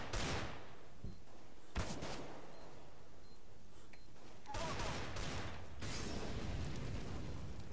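A grenade detonates in a Counter-Strike: Global Offensive match, giving sharp, loud blasts and gunfire-like bursts with a rumbling tail, with several impacts spread across the clip and a steady game background underneath.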